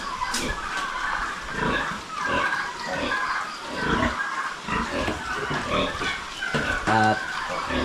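Pigs and newborn piglets grunt and squeal on a farm, a steady jumble of close animal noise running throughout, with a brief high squeal near the end and a voice talking over it at times.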